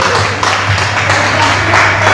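A crowd claps in steady, dense applause at a Dandiya festival and Diwali gathering, loud and continuous throughout with no voices over it.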